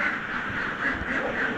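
Ducks quack at an egg-laying duck farm, a continuous overlapping chorus of nasal calls from many birds, near and steady throughout.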